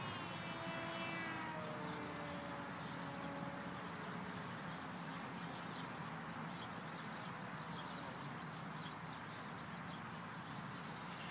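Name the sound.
model airplane flying at a park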